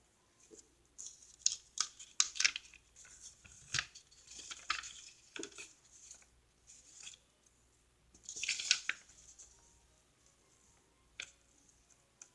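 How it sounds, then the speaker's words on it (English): Scissors trim paper for a monthly planner spread, with a series of short, close snips and crisp rustles that come in uneven bursts separated by quiet gaps. "I think I'm going to cut that with the scissors"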